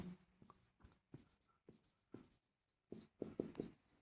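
A pen writing on paper while working a 9th-class math exercise, heard as soft scratchy strokes in short bursts with small gaps, close and quiet, no talk.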